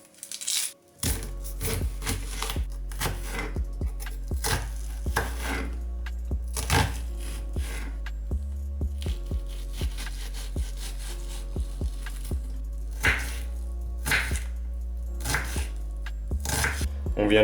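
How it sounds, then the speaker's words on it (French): A knife chops an onion steadily on a cutting board, a quick series of close, crisp knocks with short pauses, no talking. "éplucher et émincer notre oignon"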